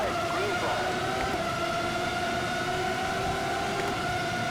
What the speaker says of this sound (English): listen to this engine note!